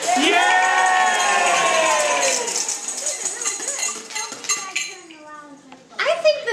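Children in a puppet show audience yell and shout together loudly, a sustained crowd roar that tapers into scattered voices before a fresh burst near the end.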